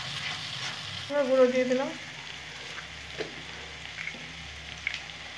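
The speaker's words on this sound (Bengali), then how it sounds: "ভালো করে মশলাটা কষিয়ে নেব।" Ground spice masala with Kashmiri chili hits a hot pan for chicken, giving a loud burst of sizzling and frying for about a second that then fades to a soft background crackle, with a voice speaking briefly over it.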